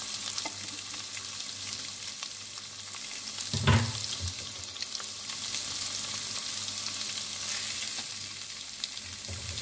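Minced pork hits hot oil along with fried shallots in a Vietnamese pork-rib congee recipe, giving a steady close sizzle with one brief stir or clatter partway through.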